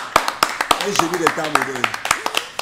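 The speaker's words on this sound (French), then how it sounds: "il faut qu'on applaudisse pour ça." Friends clap their hands in a quick, regular rhythm of sharp, close slaps while someone talks over the claps.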